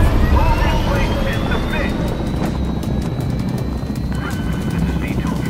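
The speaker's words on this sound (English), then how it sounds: "The VTOL just flew in." Heavy rotor and engine roar of a VTOL aircraft arriving in the game Mirror's Edge Catalyst, a loud sustained drone with a rising whine, held steady throughout under music-like tones.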